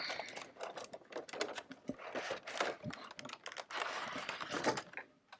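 Sticker tape on the packaging of a Danganronpa 2 Hajime Hinata ARTFX J 1/8 scale figure is cut open, making rapid, close, scratchy clicks and crinkly plastic rustling in quick irregular bursts.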